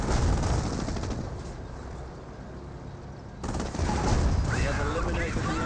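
Gunfire rattles through a Company of Heroes battle as a Hetzer tank destroyer takes fire, with dense bursts running throughout and briefly thinning before picking up again loudly.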